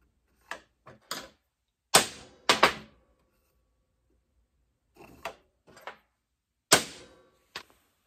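A hammer strikes a punch on a drill press pulley in a workshop, sharp metallic taps in small irregular clusters separated by pauses, close and fairly quiet.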